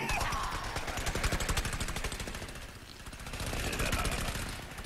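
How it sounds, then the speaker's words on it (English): The Engineer's jackhammer ability in Plants vs. Zombies: Garden Warfare runs as a loud, continuous rapid-fire rattling pound, its fast regular hammering strokes lasting the whole stretch with no speech over it. "we're going to have a little look at the jackhammer ability"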